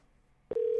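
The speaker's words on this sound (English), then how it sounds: "I hear it ringing." A phone call connecting, with a short click followed by a steady, loud ringback tone that starts abruptly partway through and continues to the end.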